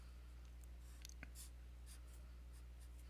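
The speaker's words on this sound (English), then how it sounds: "I'll write this stuff out on paper." A pen scratches across paper in short, faint strokes with brief pauses, close by and quiet, with no talking, while statistics figures are written out.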